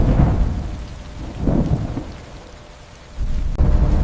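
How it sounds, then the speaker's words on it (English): Heavy rain with rolling thunder in a stormy scene, deep rumbles swelling and fading in waves over the steady hiss of downpour, with no voices. "For ages, it rained."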